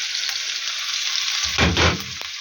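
Onion sizzling in a frying pan for plov, a steady close crackling hiss with a brief burst of stirring and louder spattering near the end; no talk.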